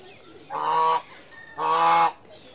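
Ducks honking at a bird park, two loud, close nasal honks about a second apart, alone with faint background chatter of other birds.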